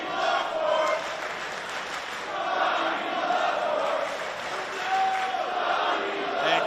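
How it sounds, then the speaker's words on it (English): A wrestling crowd in Dallas roars and chants steadily at a live event, a dense far-spread wash of voices swelling and easing in waves without a break. "Johnny Bloodsport hearing it from this crowd in Dallas."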